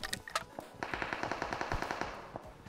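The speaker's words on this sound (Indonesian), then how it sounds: "Ini gue lagi nembak musuh." Rapid automatic gunfire from a shooting video game, fired at enemies in sharp, evenly spaced bursts after a few scattered single shots, crisp and fairly quiet, with no talking.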